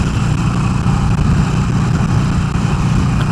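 A 2019 Harley-Davidson Sportster Iron 883 XL at 70 mph in fifth gear, its engine a steady low drone blended with constant roaring wind noise, loud and unbroken throughout.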